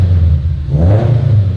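A Subaru BRZ fitted with a new UEL header exhaust revs, a deep, loud rumble that swells briefly, close by and heard alone.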